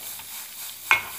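A brief stir of tomato paste and harissa filling in a pan, soft scraping over a quiet sizzle with one sharper clack near the end.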